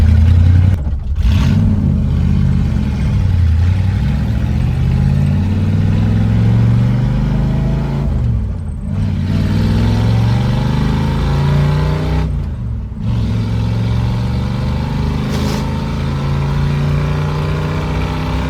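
A 1965 Ford Mustang Fastback engine revs and accelerates loudly and steadily, with gear changes causing brief dips, its exhaust note echoing close by throughout without talk.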